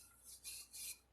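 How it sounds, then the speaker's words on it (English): Sandpaper rasps over a piece of carved wood in three short strokes. The strokes are soft and close, separated by brief pauses, with no talking. "I'm gonna start doing some sanding."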